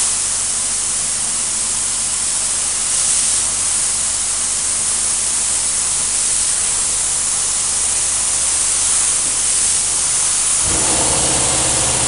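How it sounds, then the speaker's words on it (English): Spray gun applying a first coat of lacquer to wood, with a steady, loud, continuous hiss of atomized spray running nearly unbroken and then stopping abruptly near the end. "If you notice when I was spraying, I had my gun at an angle."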